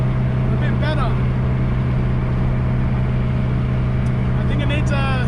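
Engine of a car with a 5-speed gearbox cruising at about 3,500 rpm, a loud steady drone with low rumble, with a voice speaking briefly over it near the start and end.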